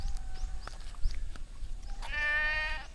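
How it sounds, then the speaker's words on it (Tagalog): A goat on a hillside above the South China Sea coast at Mariveles gives a single wavering bleat near the end, fairly close, after a stretch of quieter outdoor ambience with faint chirps and knocks. "Oh, may kambing doon."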